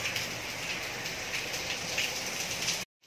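Rain falling steadily, a continuous hiss of drops that holds at an even level, then cuts out abruptly near the end.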